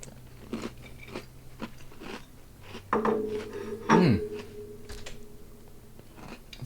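Crunchy bites and chewing of a cherry blossom flavored Oreo cookie, close and fairly loud, with a sharp crunch partway through and softer chewing around it, no talking.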